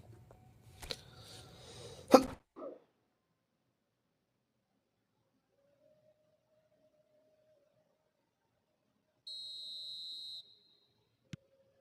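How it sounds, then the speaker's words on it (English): A referee's whistle sounds in the eFootball 25 mobile football game, a steady tone of about one second standing alone after a short burst of noisy crowd or commentary sounds and a long quiet stretch. "Whistle goes, and we start the second half."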